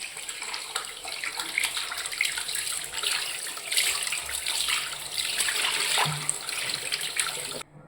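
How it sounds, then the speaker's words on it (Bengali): Tap water runs steadily while raw chicken is rinsed clean, a loud continuous splashing stream with slight shifts as the meat moves under it, no voices. "দশ মিনিট পর চিকেনটাকে এখন ভালো করে ধুয়ে নেব"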